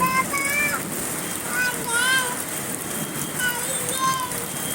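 Heavy downpour at night in Dhaka: a continuous hiss of pouring rain forms a steady backdrop while a voice speaks over it at intervals.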